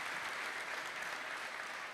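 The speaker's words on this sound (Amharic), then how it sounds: "አጨብጭቡላት ለታችን" A crowd claps continuously at a church gathering, a dense, even wash of many hands that stays steady and close throughout.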